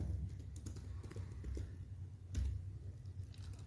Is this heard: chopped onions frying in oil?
no